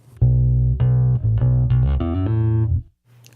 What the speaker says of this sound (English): I'm going to play a little lick that sounds something like this